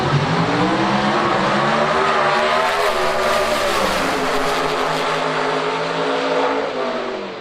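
A nitro drag racing car makes a full run at an IHRA Palm Beach Nitro Jam, a loud, continuous roaring engine whose pitch climbs and then drops slightly as the car passes and fades toward the end.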